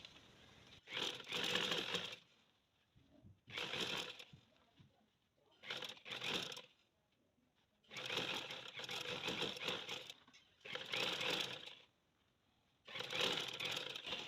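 A sewing machine stitches both sides of a tulip salwar for a six- to seven-year-old girl. It runs in about six loud, whirring bursts of one to two seconds each, with short quiet pauses between them and no talking.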